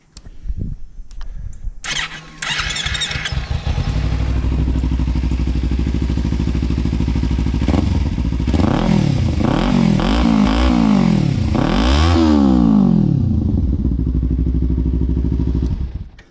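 Motorcycle fitted with a new exhaust with the baffle left in, starting after a couple of seconds, then idling loudly and blipped through several rising-and-falling revs, close and steady to the end.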